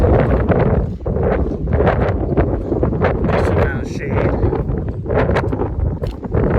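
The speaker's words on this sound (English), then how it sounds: "And the higher exposed parts gets pretty windy. So you can probably hear it." Wind gusting across a high, exposed stretch of mountain trail on the Pacific Crest Trail in Northern California, a steady buffeting rumble against the microphone that runs throughout while a hiker talks over it.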